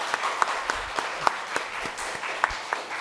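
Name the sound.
congregation welcoming applause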